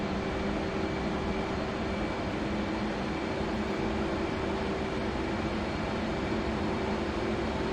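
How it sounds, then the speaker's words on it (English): An F/A-18 jet in the DCS flight game runs at full afterburner over Nevada, giving a steady, loud, unbroken roar with no speech. "Building speed, full afterburner now, 500 knots. This thing is a rocket."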